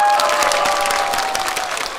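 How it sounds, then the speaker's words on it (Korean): An audience at a Buddhist temple trot concert applauds briskly, a dense burst of clapping with a few faint cheers that begins loud and eases off slightly over two seconds. "주지수님한테 박수 한번 주시겠어요?"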